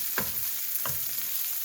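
Thai spicy basil stir-frying in a pan, a steady close sizzle with two brief scraping stir strokes about half a second apart.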